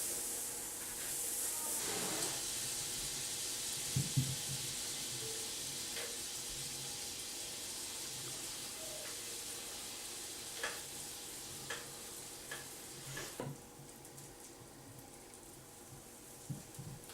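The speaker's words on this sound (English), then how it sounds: "I'm going to put a couple of tablespoons of butter on my griddle." Butter melting and sizzling on a hot griddle for buttermilk pancakes, a steady broad hiss with a few soft clicks and taps scattered throughout, fading slightly near the end.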